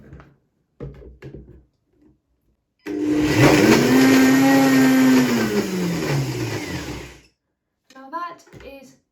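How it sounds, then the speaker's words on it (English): A blender whirs loudly for about four seconds, blending a vegan cheesecake mixture, its motor pitch sliding downward as it churns, with brief talk before and after. "let's blend this up again"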